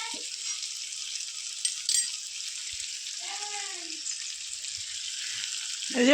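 Goat meat trimmings fry in a pan with a steady, close hiss of sizzling oil throughout, a brief voice-like sound in the middle and a louder clatter at the end.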